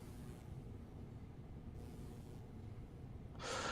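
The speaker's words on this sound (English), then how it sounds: "Yeah, there's another train." A low, steady rumble of another train passing on the London commuter line between London Victoria and Reigate in Train Sim World 2, faint and continuous, with a brief brighter rush near the end.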